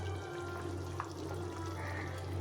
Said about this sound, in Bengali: ঝোলটা ফুটে গেছে এখন মাছগুলো দিয়ে দেবো